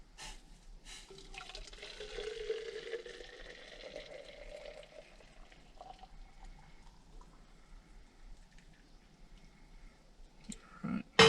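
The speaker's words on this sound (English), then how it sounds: "Looks like our water's boiling, so let's see if I can pour it in here" Boiling water pours steadily into a container at a truck campsite for several seconds, the pitch of the filling sound rising, followed by a few clicks and clatters at the end.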